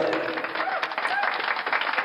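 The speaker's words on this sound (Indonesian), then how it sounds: "tepuk tangan dulu untuk tim kuasa hukumnya Bapak Joko Widodo" Audience applause at a roast-style talk show in Indonesia: dense, steady clapping fills the whole stretch at a strong level, with voices mixed in underneath.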